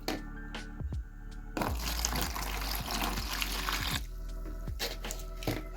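Harvested tigernuts being washed: running water trickles and splashes in bursts, with a louder continuous rush in the middle, close by, no talking.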